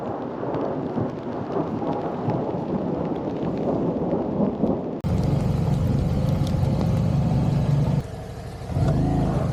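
Thunder rumbles heavily during a mountain storm, a dense loud roar mixed with rain and road noise, with the sound changing abruptly partway through.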